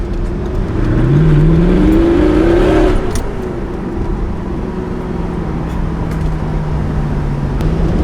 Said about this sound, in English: That straight pipe is sick, isn't it? Sounds awesome.